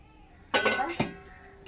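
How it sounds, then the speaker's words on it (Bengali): A lid comes off a container holding rested dough, a short scraping clatter followed by a second lighter knock, close and brief against a quiet room. "এই ঢাকাটা খুলে দেখি"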